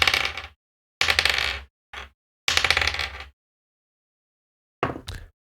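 Several throws of dice clatter on a wooden table, each burst a fast run of hard clicks and bounces settling to rest, near and dry, with short silent gaps and a final pair of quick taps.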